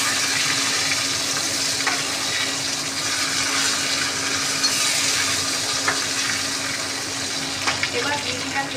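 A fried fish head and four dried red chillies sizzle in hot oil, a dense, continuous hiss and crackle close by with a few faint knocks, with no talk over it.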